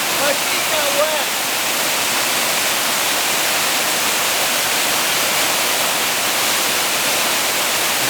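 A small waterfall pours in a steady, dense rush of splashing water that continues without a break, close and fairly loud, with a faint voice barely surfacing near the start.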